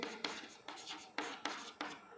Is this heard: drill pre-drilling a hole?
no